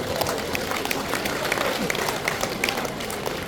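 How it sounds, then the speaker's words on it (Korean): A lecture hall audience at an economics talk by a Korean university professor claps together, a steady dense wash of applause at moderate volume lasting several seconds, with no voice over it. "일단 박수를 쳐볼까요?"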